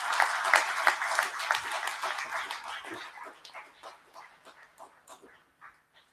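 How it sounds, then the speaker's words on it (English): An audience at a product launch event bursts into loud applause that thins out into scattered, fading claps over several seconds. "Can we have a big round of applause"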